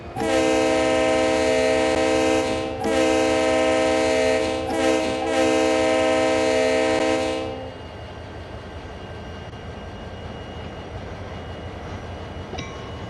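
A diesel locomotive on the Clinchfield Railroad in Train Sim World 3 sounds a loud, sustained multi-tone horn in three long blasts, then falls to a quieter steady rumble of the engine as it pulls away.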